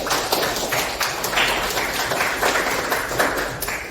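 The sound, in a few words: classroom applause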